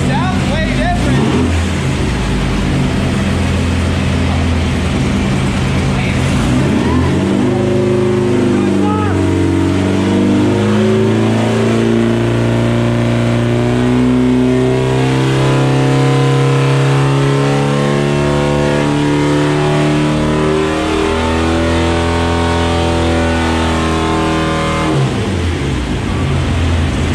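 Class 11 race car engine with a new exhaust system running on a dyno, loud and close, idling then climbing through a long rev sweep and dropping back, with people talking over it.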